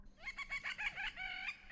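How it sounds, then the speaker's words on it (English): An eerie, creepy bird call from a TV monster episode, a rapid warbling run of rooster-like clucking notes lasting under two seconds, faint and heard alone with no talk. "That is a creepy bird sound."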